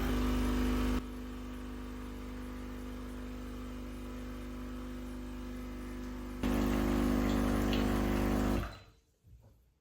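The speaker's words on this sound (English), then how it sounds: "Just pump all the water through the machine, and you'll be all set." A Tchibo Cafissimo coffee machine pumps water through during descaling, a steady mechanical hum with a tonal buzz that shifts level twice before cutting off near the end, with no talking.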